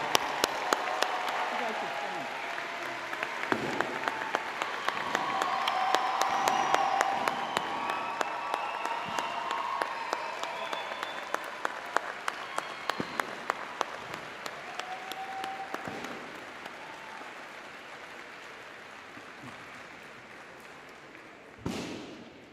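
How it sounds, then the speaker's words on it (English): At the American University in Dubai's 2022 graduation ceremony, a large audience applauds the faculty. The dense, sustained clapping is peppered with sharp, close hand claps and thuds, and it slowly thins out before a last loud knock. "now you may reach out and say thank you and applaud the amazing AUD faculty"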